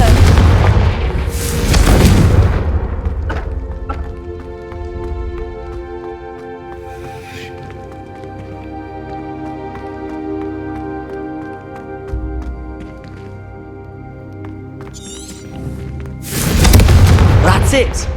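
Confringo fire spell going off in the game Hogwarts Legacy, heavy booming blasts at the start and again at the end, with a sustained musical score and spell effects running between them.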